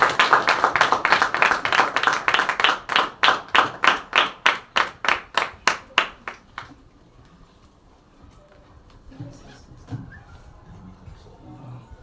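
A church congregation claps hands in unison, a steady rhythmic beat that speeds slightly and then stops after about six seconds, followed by quieter room sound with faint voices.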